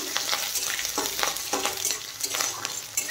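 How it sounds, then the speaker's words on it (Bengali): Spices with ginger, green chilli and peanuts sizzle in hot oil in a pan while being stirred, a steady bright frying hiss broken by scraping strokes at regular intervals, close and fairly loud with no talking. "এখন মশলা হালকা ভেজে নেব"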